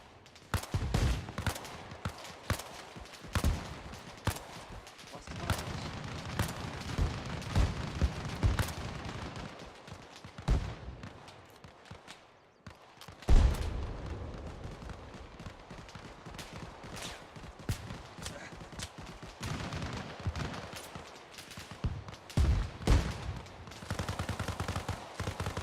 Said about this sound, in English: HE mortars outbound from 5-2 shortly on to enemy positions we are. Keep up the fire, lads.